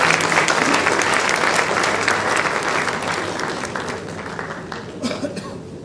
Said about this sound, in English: Can we have a huge round of applause for our chief guest?